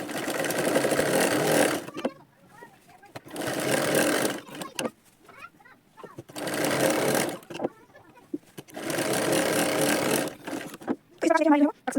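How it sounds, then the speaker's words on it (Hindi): A sewing machine stitches tucks into lined blouse fabric in four loud, close bursts of rapid whirring, with short pauses between runs and a brief voice near the end. "ये जो मेन टक्स होता है हमारा ये वाला, इसको हम सिलाई लगाते हैं"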